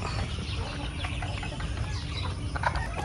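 Flock of more than a hundred chickens at a poultry farm, clucking in a dense, continuous murmur with scattered individual calls over a steady low background.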